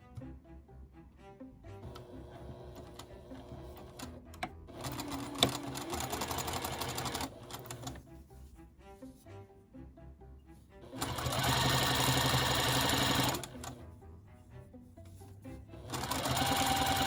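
Sewing machine stitching fabric onto a quilt block, its steady mechanical whir running in several bursts, the loudest and fastest stretches coming near the end, heard alone without talk.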